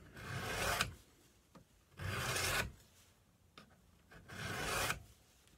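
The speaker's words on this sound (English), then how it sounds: "Full even strokes along the whole edge." A knife blade drawn along a sharpening stone or file in full, even strokes over the whole edge: three long, close rasping passes about two seconds apart, with quiet gaps and faint clicks between them, no talk.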